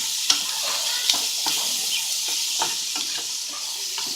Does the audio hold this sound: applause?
no